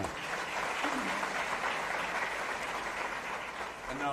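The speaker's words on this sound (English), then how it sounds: "Let's give the Sadhguru a round of applause" An audience applauds for Sadhguru at an interview event, a dense, steady wash of clapping from many hands that holds at full strength for several seconds before easing slightly at the end.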